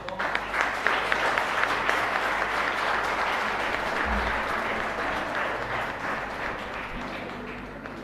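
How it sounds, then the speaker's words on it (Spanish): Loud, sustained applause from a congregation inside a church right after a baptism, dense clapping filling the whole stretch with a steady low hum beneath. "Fuerte aplauso"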